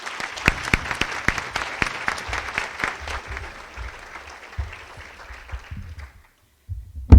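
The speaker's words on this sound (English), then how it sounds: "Let's give a round of applause and welcome Terry to the stage" An audience applauds as a Professional Leadership Award winner comes to the stage, a sharp burst of close hand claps that thins out and fades to near silence before a final thump.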